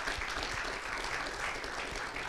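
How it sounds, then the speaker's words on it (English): Audience applause at an anti-aging conference, welcoming first-time attendees: a brief burst of dense, even clapping from a room full of people. "a round of applause for our first-timers"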